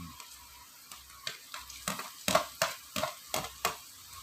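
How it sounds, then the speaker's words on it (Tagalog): Ginger sizzles in a hot pan, with a string of rhythmic scraping stirs and crackling bursts about every third of a second, close and moderately loud, with no voices. "Lagyan na po natin yung luya."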